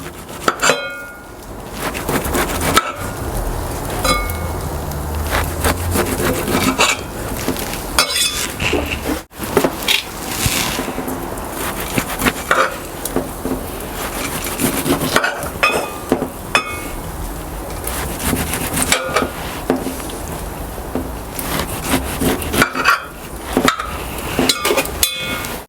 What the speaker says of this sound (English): What we're going to do now is take these corn, just going to cut them off.